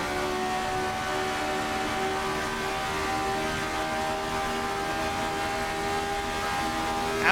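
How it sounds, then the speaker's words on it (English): The RSS Formula 79 race car in a racing video game holds a steady, sustained engine drone at a constant pitch, moderately quiet and alone without talk. "listening to that engine sing"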